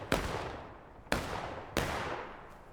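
Three separate musket shots in the Civil War video game War of Rights at the Antietam Creek Bloody Lane map, each a sharp close crack with a long echoing tail, spaced about a second apart.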